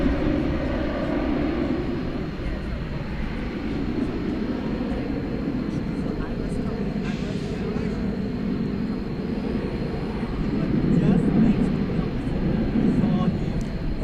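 American Airlines Boeing 777 jets at DFW Airport at night, a low continuous engine rumble that builds toward the end, with a voice talking over it throughout.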